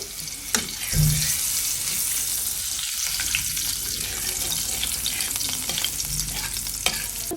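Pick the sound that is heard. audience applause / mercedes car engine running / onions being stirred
onions being stirred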